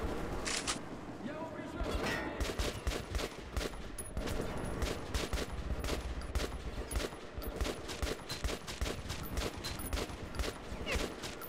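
Rapid bursts of gunfire rattle continuously from weapons in Metro 2033 Redux, a dense fusillade of repeated shots across the whole stretch.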